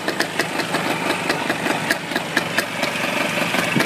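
A 1951 NSU two-stroke motorcycle engine idles loudly and close, its rapid, uneven putter pulsing steadily throughout with no voices.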